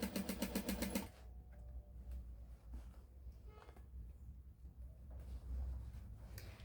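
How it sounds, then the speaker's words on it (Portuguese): A sewing machine stitching an elastic waistband races in a fast, loud burst for about a second, then falls away to a low hum and faint handling noise, with no talking. "a gente vai costurando até o final"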